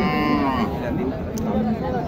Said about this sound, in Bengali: এখানে একটি শাহিওয়াল গাভী, বেশ বড় একটি শাহিওয়াল গাভী।